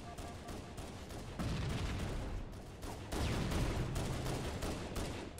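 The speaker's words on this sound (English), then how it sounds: "I have shotgun now." Shotgun blasts in the game Halo CE, several heavy booming shots in an irregular firefight amid other weapon fire, loud and close with no talking.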